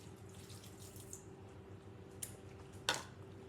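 Quiet trickle of pasta water being poured into carbonara sauce over a low steady background hum, with a brief louder splash near the end.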